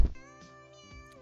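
A cat, Purple Kitty, gives a couple of short, soft meows close by, with a faint tonal background hum between the calls.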